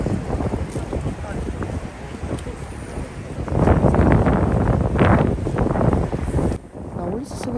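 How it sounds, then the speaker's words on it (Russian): Strong, very cold gusting wind in Seoul buffets loudly, roaring and surging in waves, with a voice speaking underneath. "так еще и дует очень холодный ветер"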